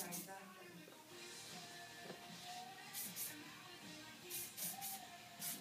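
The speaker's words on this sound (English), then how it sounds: "just working the spray through" Short hissing bursts of hairspray sprayed onto hair, several quick puffs spaced apart, heard alongside soft background sounds.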